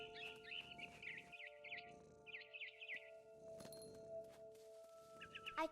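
A frightened bird in the video game What Remains of Edith Finch gives repeated high, fluttering chirps and cluck-like calls in short bursts. A steady tonal background hum runs underneath.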